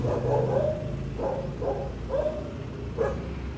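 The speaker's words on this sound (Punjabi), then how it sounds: "ਆਵਾਰਾ ਕੁੱਤੇ ਵੀਰ ਜੀ ਜਿਹੜੇ ਹੈਗੇ ਉਹ ਭੌਂਕ ਭੌਂਕੀ ਕਰ ਰਹੇ ਆ" Stray dogs on a road toward Rishikesh bark repeatedly at moderate distance, a series of about six barks over a low, steady background rumble.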